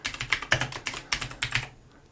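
Rapid, light keystrokes on a computer keyboard, a close, quiet burst of clicks in uneven rhythm that stops abruptly.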